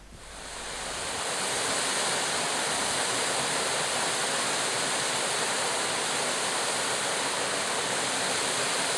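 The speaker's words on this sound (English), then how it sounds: "the Web River drops over the Fincha Habera cliff" A steady, roaring rush of the Web River falling over the Fincha Habera cliff in Ethiopia swells in over the first second and then holds constant and loud.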